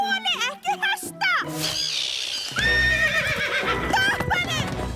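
A horse neighs and whinnies in an animated children's cowboy episode, loud and close, with hooves clip-clopping along a trail while characters talk over it.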